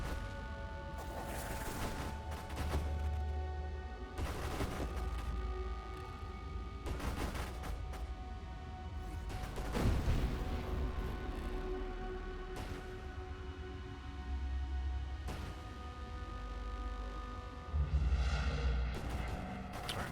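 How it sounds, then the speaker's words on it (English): Big explosions go off in a space shooter video game, a series of sharp blasts every few seconds over busy game sound and a steady low drone, with heavier booms near the middle and the end. "Ooh, there's some big explosions there."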